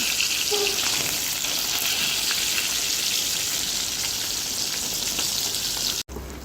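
Fish frying in a pan after being turned to cook on both sides, giving a steady, loud, close hiss of sizzling oil that runs unbroken before cutting off abruptly near the end.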